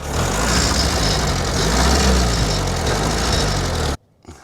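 A Soviet GAZ-69 engine runs steadily on gravity fuel feed, a loud, even low rumble close by that cuts off abruptly near the end.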